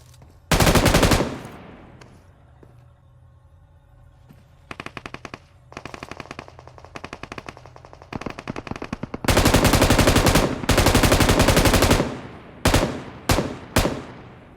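Automatic weapon fire in the PUBG Mobile battle royale game crackles in loud sustained bursts: a long opening volley, scattered short strings of shots, then a heavy extended burst and several sharp closing salvos.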